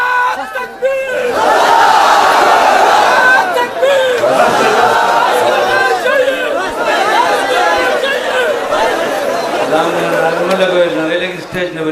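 A large crowd at an outdoor religious gathering roars back a chant in unison, a loud sustained mass of voices filling the whole stretch, with a few scattered shouts rising above it.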